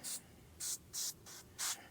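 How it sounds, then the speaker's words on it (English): Five short hissing spray bursts from a spray bottle onto a John Deere 3020 tractor battery, evenly spaced, with quiet pauses in between and no voices. "Now, if we were to spray the battery"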